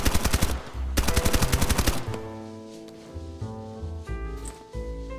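Automatic weapon fire in the video game Escape From Duckov: two rapid, evenly spaced bursts of loud shots in the first two seconds, followed by quieter game music and effects.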